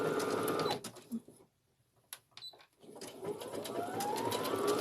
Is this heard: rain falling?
no